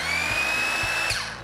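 A battery-powered saw runs at high speed, a loud steady whine that drops off as the blade winds down, alone without speech.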